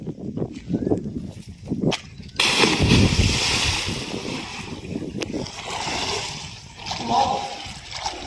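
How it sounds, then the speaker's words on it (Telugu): Water splashes and churns as someone swims in a newly built, deep farm well full of clear water; a quieter stretch gives way to a loud, sustained wash of splashing that continues near and steady. "లెట్స్ మనం స్విమ్మింగ్ స్టార్ట్ చేద్దాం"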